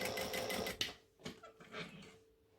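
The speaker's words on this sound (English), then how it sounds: "And then stitch the next spine line." Sewing machine stitching a spine line through a fabric book, running in short irregular bursts with brief pauses between them, fairly faint and close.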